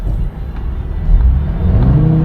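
Stock exhaust on a 2020 Nissan 370Z revs up, a loud, close engine roar that climbs in pitch and holds steady.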